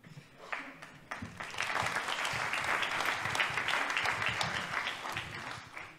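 A crowd at a French left-wing campaign launch rally applauds. Scattered claps in the first second swell into sustained, even applause that continues strongly before easing slightly at the end.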